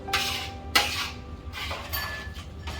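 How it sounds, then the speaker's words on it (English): Spoon clinking and scraping against a pot while salt is stirred into spaghetti sauce, with a few sharp metallic knocks and lighter scrapes spread across a few seconds, close by and fairly quiet, with no talk. "mix it around, let it dissolve. Stir it again, retest it, and see if it needs more"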